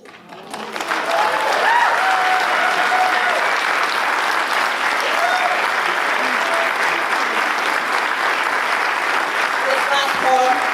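Sustained audience applause fills a concert hall at a Halifax pub after a poetry reading, loud and steady for about ten seconds, with a few voices whooping faintly beneath the clapping.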